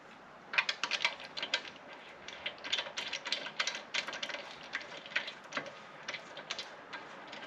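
A ratchet tightens brand-new lug nuts on the wheel of a Mercedes CL55 AMG in a garage, producing rapid bursts of close, crisp clicking with brief pauses between runs.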